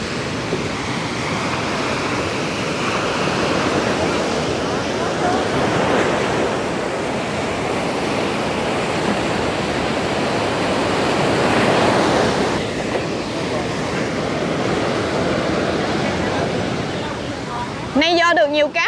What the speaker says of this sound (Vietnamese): Sóng lớn quá cả nhà.